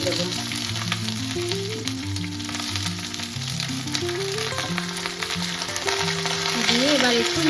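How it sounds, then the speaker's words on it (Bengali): Cauliflower leaves frying and being stirred in a pan, with a steady sizzle and utensil scraping running continuously throughout, while background music plays along. "এখন আমি ভালো করে নাড়াচাড়া করে নিচ্ছি।"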